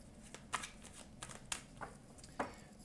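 Tarot cards are shuffled quietly before an intuitive reading, a few soft separated flicks and slides close by over a faint background hush, without speech.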